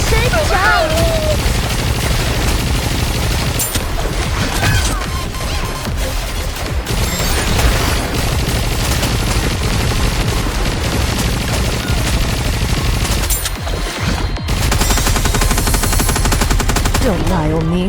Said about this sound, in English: Fire until your gun barrels melt.